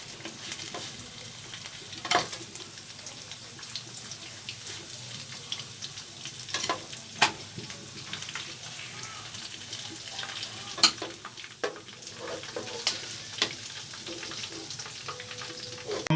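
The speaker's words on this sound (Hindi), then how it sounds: "हम बाकी मछली को भी फ्राई कर लेंगे।" Fish pakora frying in hot oil, a steady close sizzle and bubbling throughout, broken by a few sharp clinks and stirring scrapes.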